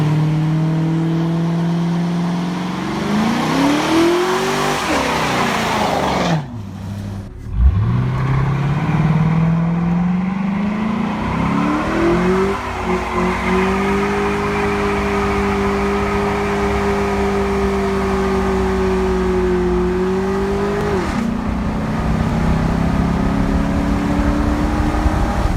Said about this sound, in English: It used to do burnouts like this.